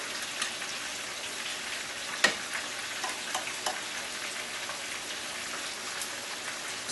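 Fish for Jamaican escovitch fries on the stove, a steady close crackling sizzle with scattered sharp pops of spitting oil throughout, no voices.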